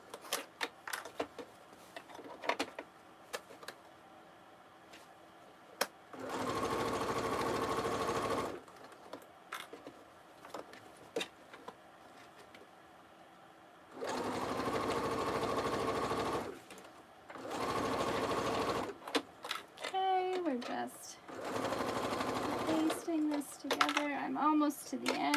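A sewing machine bastes fabric pieces together for a fanny pack, whirring in several sustained runs between pauses filled with handling noise, with a person speaking briefly near the end.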